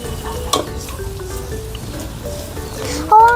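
Chicken curry with turmeric and coriander powders being stirred in a hot pan at home, a soft continuous scrape and sizzle with a brief clatter, near and steady, a few faint tones over it.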